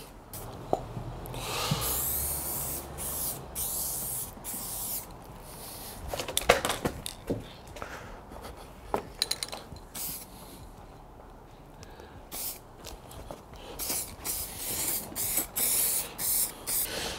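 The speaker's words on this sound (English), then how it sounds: "So let me get this lacquer on." A rattle-can of lacquer sprays onto parts of an MR2 Spyder roadster in short and longer hissing bursts, near and fairly loud, with pauses between passes and a couple of small knocks.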